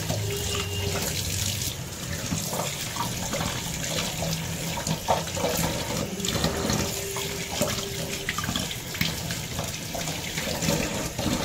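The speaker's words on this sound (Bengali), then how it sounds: "চারা মাছগুলো এখন ধুয়ে নিচ্ছি ভালো করে জলে।" Small chara fish being washed in water in a home kitchen, continuous splashing and running water with sloshing and handling noises, close and steady.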